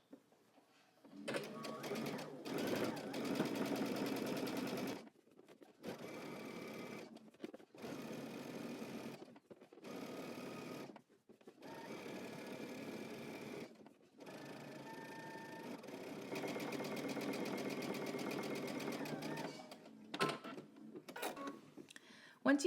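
A sewing machine understitches a skirt facing close to the edge, running in several bursts of steady, close whirring separated by short pauses, loud and alone.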